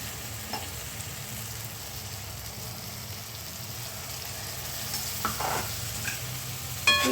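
A paste of sesame, peanut and gram flour roasts with masala in oil, a soft, even sizzle close by, with a few light stirring scrapes near the end and no voices.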